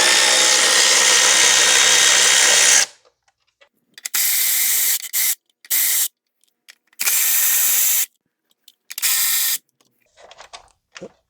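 Loud bursts of a power driver spin bolts out of a 2019 Honda Civic 2.0 valve cover on a long extension and deep 3/8-drive socket. After a long opening run come several short, close spurts separated by silence.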